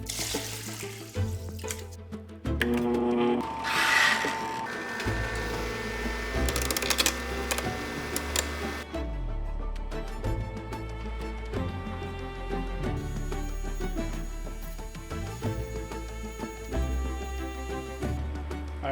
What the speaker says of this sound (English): I'm going to be starting on a brand new 220 grit diamond wheel on my Cabking for the grinding process.